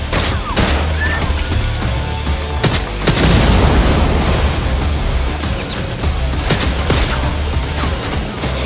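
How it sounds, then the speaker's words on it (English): Nail gun firing in the shooter Far Cry 6, a string of sharp cracks and thuds spread across the clip amid a busy combat mix of booms and crashes, with no voices. "who needs a regular old gun when you have a bloody nail gun?"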